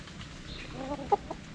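Native chickens on a farm give a few soft clucks over low background rumble, faint and close, with no talking.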